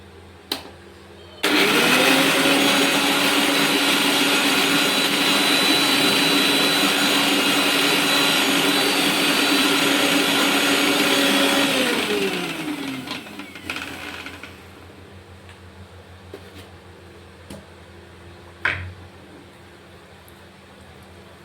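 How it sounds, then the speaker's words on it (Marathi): A kitchen mixer grinder whirs loud and steady for about eleven seconds, grinding roasted masala with ginger-garlic paste for dhaba-style matar paneer, then winds down and stops, followed by faint clatter. "मसाला हा भाजून झालाय, आता मी मिक्सरला काढून घेते।"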